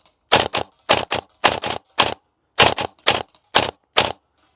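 Silverback MDR-X airsoft electric rifle firing short bursts outdoors, about eight quick double and triple shot clusters with crisp mechanical cracks and brief gaps between them, loud and close.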